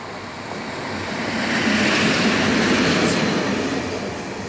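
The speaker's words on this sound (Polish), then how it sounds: "Same wagony sypialne" Russian Railways sleeping cars of the Moscow–Nice train roll past at close range, a steady loud rumble and rush of wheels on track that swells and holds without voices.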